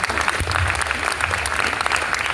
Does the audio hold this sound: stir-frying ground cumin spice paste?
no